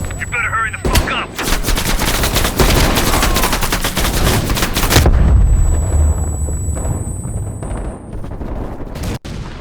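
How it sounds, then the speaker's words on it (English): Heavy machine gun fire from a ridge in Call of Duty Cold War, loud dense bursts of rapid shots hammering for several seconds, then fading into rumbling battle noise and a few scattered cracks. "Heavy MG on the ridge."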